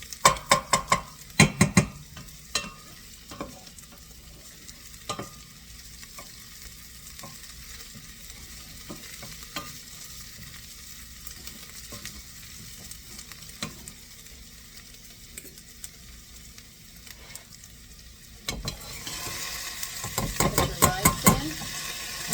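Onions for broccoli risotto are stirred in a hot pan over a lowered flame, a steady soft sizzle with repeated scraping and clinks of a utensil against the pan, growing busier and louder near the end.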